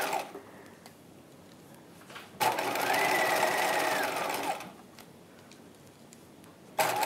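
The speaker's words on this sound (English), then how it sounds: "And we're sewing through a lot of layers here." A sewing machine stitches through many layers of fabric on the bodice of a 1950s-style halter dress. One close, even two-second run of whirring stitches sits between quiet pauses, and a sharp click comes at the end.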